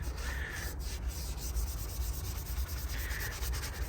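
A Mk7 GTI engine valve cover is scrubbed with a brush and foam cleaner, producing a continuous close, gritty rubbing with steady repeated strokes over a low background rumble.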